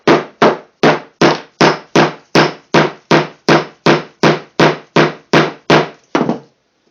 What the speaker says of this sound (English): Now put in your dowel. In this case, a dowel. It could be a knife blank. And tap it in.